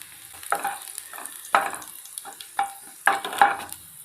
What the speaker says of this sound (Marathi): आपलं मोहरी आणि जिरं तळतळलं आहे।